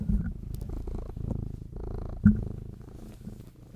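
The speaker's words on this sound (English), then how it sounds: "or just purr into the microphone" A house cat purrs right into a desk microphone, a close, low, rumbling purr in steady rhythmic pulses with a small bump of handling noise partway through, and no speech.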